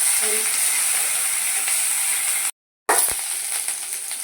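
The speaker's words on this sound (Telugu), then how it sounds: "కరేపాకు వేడి తర్వాత కొత్తిమీర కూడా వీళ్ళనే వేసేసి కొంచెం బాగా ఫ్రై చేయాలి" Curry leaves and coriander fry in hot oil in a pan, a steady bright sizzling hiss that cuts out briefly, then resumes with a crackle.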